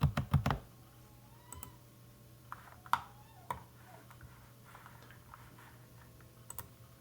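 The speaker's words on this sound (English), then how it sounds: "Click N on my keyboard, so I'm looking directly on the top." Scattered computer keyboard key presses and mouse clicks, sharp isolated taps with long quiet gaps, fairly faint, a quick burst at the start and a few later clicks, no talking.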